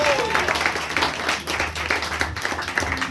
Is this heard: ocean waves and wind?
no